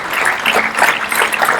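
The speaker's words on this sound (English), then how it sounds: "Everyone should give a big round of applause for this team." A talk show audience gives the team a round of applause, a dense crackling patter of many hands clapping at once, steady and fairly loud for under two seconds.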